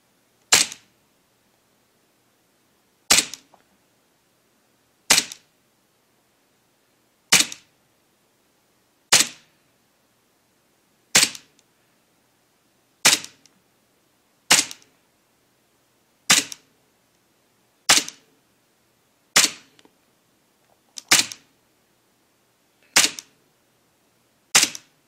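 An airsoft Airsoft Armory MEU 1911 carbine fires single shots over a chronograph, thirteen sharp isolated cracks spaced about two seconds apart, with near silence between them.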